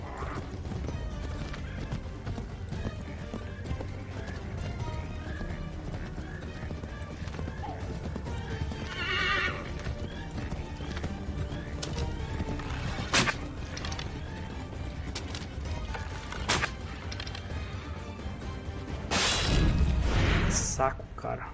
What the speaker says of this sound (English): Missão de perseguição a cavalo devia ser proibida nesse jogo.